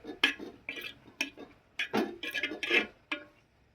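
Spoon stirring fish curry in a cooking pot, giving a series of irregular scraping and clinking knocks, close and moderately loud, with short pauses between strokes and no talking.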